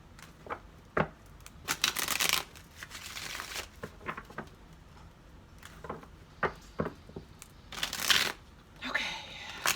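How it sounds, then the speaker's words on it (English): Tarot cards being shuffled by hand, with bursts of riffling and crisp flicking interspersed with soft taps and brief pauses, close up and fairly clear. "Last shuffle."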